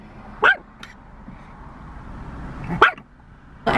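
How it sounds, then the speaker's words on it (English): Dog barking from across the street, heard from inside a parked car: two or three short, distant barks spaced apart over a low steady background hum, with no talking. "There's a dog barking across the street."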